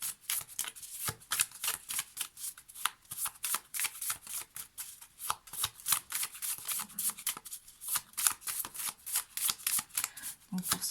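Tarot cards are shuffled by hand in a steady stream of rapid, crisp riffling bursts that continue for the whole stretch, close and fairly loud.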